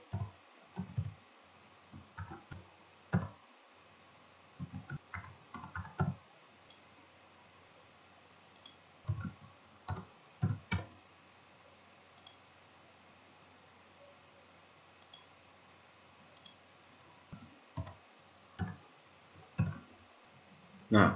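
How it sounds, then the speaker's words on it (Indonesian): Soft, sparse keyboard clicks come in short bursts with pauses as a password is typed on a computer, quiet and close against a faint background hiss. "saya akan ketikkan dulu passwordnya"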